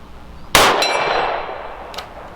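A bullet strikes a steel gong target at an outdoor shooting range, giving one sharp metallic clang that rings and decays over about a second, followed by a faint second ping.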